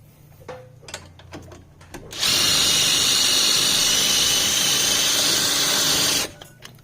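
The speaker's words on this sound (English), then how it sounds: "I'm going to use my impact." An impact wrench runs in one sustained four-second burst while loosening brake caliper bolts on a 2006–2012 Mazda CX-9, preceded by a few scattered clicks and knocks of handling the tool.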